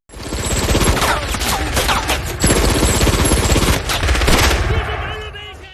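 A machine gun fires long, rapid continuous bursts, loud and close, rattling without pause before trailing off at the end.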